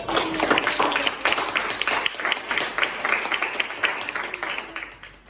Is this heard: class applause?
yes